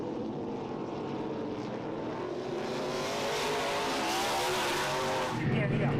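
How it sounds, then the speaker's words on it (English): A Ford Mustang V8 stock car from Stock Cars Australia racing past at Winton Raceway, its engine roar building steadily from a distance to a loud close pass, with no talking over it. "It's not just the Mustang, it's a symphony of V8s."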